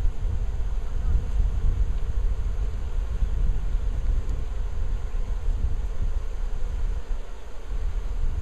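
Steady honeybee buzzing close to the microphone during a hive inspection, a continuous drone with wind noise running underneath and no clear pauses.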